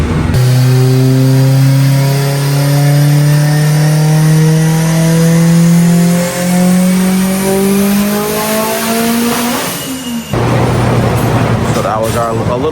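A Haltech-tuned Mitsubishi Evo engine revs hard on a dyno, its note climbing steadily for about ten seconds before cutting sharply back, then settling into a rough idle; loud and close.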